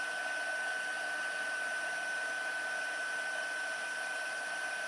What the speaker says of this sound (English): you can start moving the heat tool over the rest of the image with the embossing powder on it